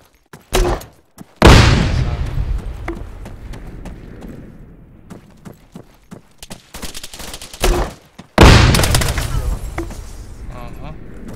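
Gunfire and explosions in a competitive online shooter match: loud bursts and sharp shots crack in clusters, with two big blasts standing out, while players talk over the action.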